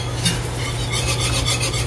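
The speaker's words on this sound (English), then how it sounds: "slowly add our broth. And you'll want to whisk as you're doing it." Broth being whisked into a pan of copycat KFC gravy, a steady close scraping and stirring swish with a faint low simmering hum beneath, no talking.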